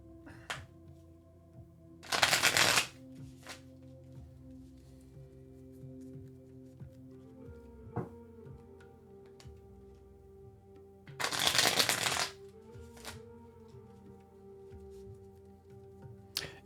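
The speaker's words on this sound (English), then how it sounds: "Okay, I'm going to shuffle." Tarot cards are riffle-shuffled in two brief, crisp bursts about nine seconds apart, close and clear, with quiet pauses and faint tapping between them.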